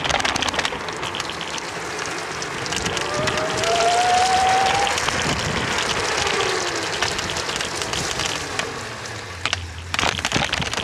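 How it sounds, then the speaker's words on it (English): A modded Frankenstein electric scooter, an esa5000, spinning its wheel in mud: a continuous loud churning and grinding roar with a rising motor whine, steady throughout and cutting off near the end. "It really doesn't like the mud, this thing."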